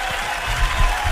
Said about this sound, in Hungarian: megérkezett hozzánk Nagy Taps kíséretében. Tatár Csilla!